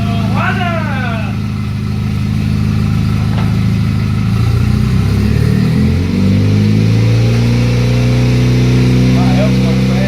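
A 4-cylinder turbocharged Camaro engine idles loudly up close, then its pitch climbs and shifts as the revs rise and fall, with someone speaking over it.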